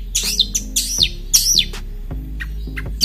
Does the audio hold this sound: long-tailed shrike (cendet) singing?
yes